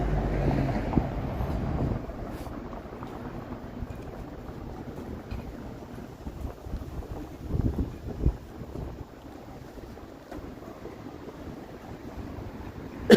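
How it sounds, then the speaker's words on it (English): Wind buffets outdoors on a Toronto evening street with a steady low roar and microphone rumble, strongest at the start and gusting again midway, with no talk. "The wind is pushing me along right now."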